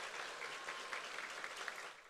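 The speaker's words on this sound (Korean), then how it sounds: "큰 박수로 모시겠습니다" Sustained applause from a church congregation at a large Korean worship gathering, steady and dense throughout as a speaker is welcomed to the stage.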